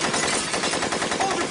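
Gunfire in a film scene: a continuous rapid burst of automatic weapon fire, loud and close, filling the whole moment with dense rattling shots.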